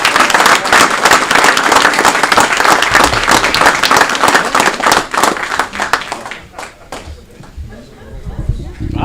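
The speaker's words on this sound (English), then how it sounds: "We can give a round of applause to her family." Audience applause fills a city council meeting chamber, loud sustained clapping from many hands that thins and fades toward the end, with people talking over it.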